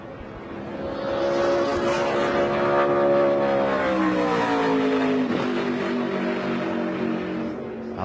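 Race truck engine roaring steadily through a qualifying lap at the Rackley Roofing 200, a sustained loud drone with shifting pitch as it moves through the corners, one brief dip near the end.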